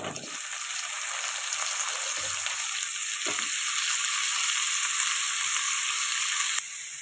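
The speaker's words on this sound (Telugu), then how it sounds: "ఇప్పుడు కట్ చేసి పెట్టుకున్న వంకాయ ముక్కలు కూడా వేసేద్దాం." Cut brinjal pieces sizzle steadily in a hot pan with ginger garlic paste, a loud, continuous hiss of frying with a few brief stirring knocks.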